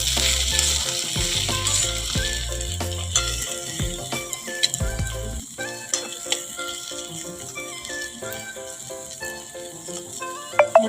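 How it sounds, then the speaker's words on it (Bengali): Okra frying in oil in a pan, a continuous close sizzle with scattered clinks and rattles of a spatula stirring, with no talking. "ভেন্ডি ভাজা হয়ে এসছে বন্ধুরা, রেডি হয়ে গেল।"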